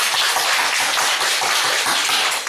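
Church congregation clapping together in a thick, continuous wash of hand claps, loud and close throughout with no pauses.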